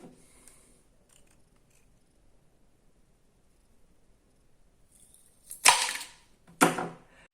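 Two sharp, loud snips cut wooden sticks inside a jar, the second following about a second after the first, each with a brief crackling tail, after a long near-silent stretch.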